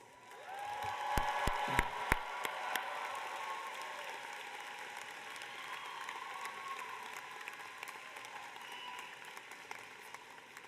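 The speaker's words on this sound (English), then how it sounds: "join me in giving our graduates a final round of applause" A final round of applause for graduates at an information school convocation, a sustained crowd of many hands clapping with a few loud nearby claps early on, steady and fairly distant in a large hall.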